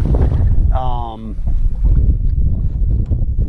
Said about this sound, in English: I apologize for the wind noise.